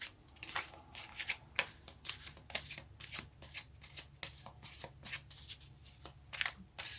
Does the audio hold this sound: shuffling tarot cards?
yes